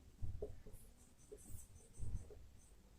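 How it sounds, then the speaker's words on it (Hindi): A pen writing notes on paper in a quiet room, soft scratchy strokes in a few short bursts, close and faint with no talk. "देखिए नोट में लिखा रहा हूं"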